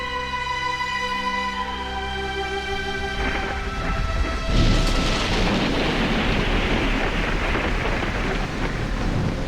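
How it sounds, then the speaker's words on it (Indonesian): Heavy rain pours down on a quiet night, a dense steady hiss that starts under a lingering musical tone and then surges louder about halfway through, continuous and enveloping with no voices. "Hujan turun demikian deras di malam yang begitu sunyi"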